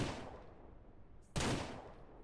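A gunshot in the Ranch Simulator video game, a single sharp loud blast partway through, ringing over a steady background hiss, with no talking.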